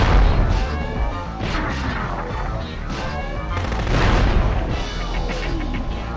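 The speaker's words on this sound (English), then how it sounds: "Whoa, that's a hell of a blast radius." A heavy weapon power-up blast in the PS1 game Future Cop LAPD: a dense, continuous roar of booming explosions and crashing impacts that swells and fades over several seconds, loud throughout with no talking.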